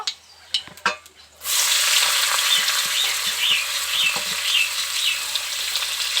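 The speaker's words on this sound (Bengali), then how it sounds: "হালকা একটু ভেজে নেব পাঁচফোড়নটাকে" Panch phoron spices and chopped onion hit hot oil: a few light clicks and taps, then an abrupt, loud sizzle that holds steady to the end, with faint scraping underneath.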